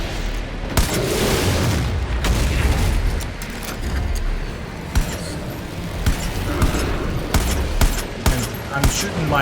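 Repeated booming explosions and gunfire in the video game Far Cry: New Dawn, heavy low rumbling blasts followed by a run of sharp bursts, with a player talking over the action.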